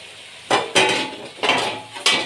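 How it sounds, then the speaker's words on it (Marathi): Onion stirred in a kadhai as it fries, with four distinct bursts of spoon-on-metal scraping over a low background sizzle, loud and close. "कांदा तळताना एकसारखा हलवत राहायचा आहे"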